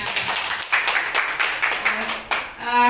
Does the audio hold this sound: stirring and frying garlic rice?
no